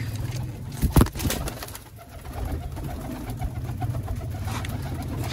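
Pigeons coo in a loft, with low repeated cooing throughout, a sharp flutter or clatter near the start, and a faint steady high hum in the background.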